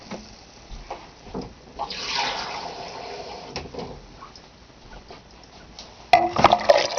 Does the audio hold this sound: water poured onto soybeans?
yes